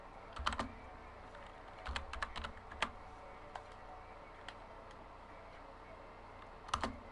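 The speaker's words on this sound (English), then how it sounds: "You should hear me type away here." Computer keyboard typing in short scattered bursts of clicky keystrokes, close and fairly faint, with quiet pauses between flurries and a louder cluster at the end.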